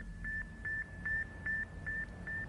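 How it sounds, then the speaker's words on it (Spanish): Faint beeping from the Sputnik satellite's radio signal, picked up near 20 MHz, repeats as short evenly spaced tones about every 0.4 seconds over a steady hiss of static and low rumble. "pude oír un sonido. Era más como un grillo que un bip"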